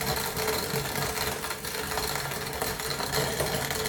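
A Victoria hand grain mill grinds dried corn for grits, a steady dense grating and rattling that runs without a break, close and fairly loud with no speech.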